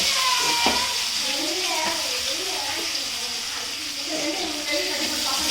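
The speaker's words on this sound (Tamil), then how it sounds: "தக்காளி வெங்காயம் ரெண்டையும் ஒன்றாவே போட்டுக்கலாம், ஒன்றும் பிரச்சனை இல்லை, எல்லாம் வதங்கிடும்." Tomato and onion with curry leaves sautéing in a pan, giving a continuous close sizzle and hiss with soft stirring scrapes throughout.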